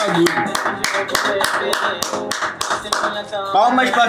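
Rapid rhythmic hand clapping, loud and close, roughly a dozen even claps in a row, with a voice talking and singing over it during an online gaming session.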